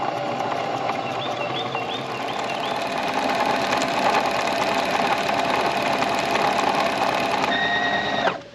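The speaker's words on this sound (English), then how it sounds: "And then we'll hit our foot pedal. And there we go, we're making a bobbin." A sewing machine winding a bobbin with an auto-stop feature, a steady whirring mechanical hum for about eight seconds that cuts off abruptly when the winder stops, with no talking.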